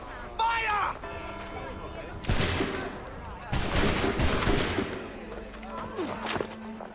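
A volley of musket gunfire in the video game Assassin's Creed 3, with several loud, crackling bursts of overlapping shots in quick succession amid shouting voices.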